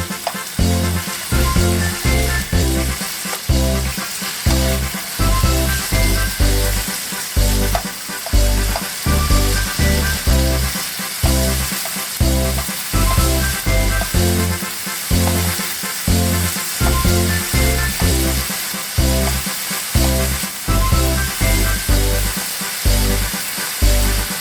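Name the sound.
meat browning in a pot for cheese steak spaghetti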